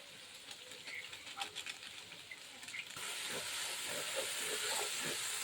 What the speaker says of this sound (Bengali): মশলাটা কষানো হচ্ছে, আর একটু হবে।